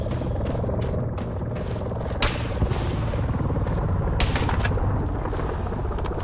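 Sniper gunfire in ARMA 3 rattles through a constant dense wash of battle noise, with a couple of sharper cracks standing out partway through; no voices.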